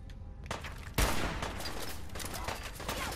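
Gunfire in Fallout 4 during a headshot: a sharp, loud shot lands early, then a dense burst of overlapping shots and rattling fire carries on without pause, close and alone with no talk.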